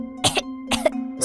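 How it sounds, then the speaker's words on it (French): Three short, sharp coughs follow one another in quick succession at close range, with a steady low hum underneath. "De la toux."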